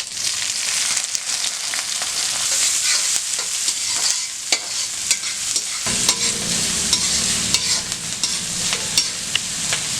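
Finely chopped onion with curry leaves sizzling and being stirred in a pan for a Tamil-style broad bean and egg stir-fry, a continuous close frying hiss with repeated scraping stirs, the sizzle swelling louder partway through.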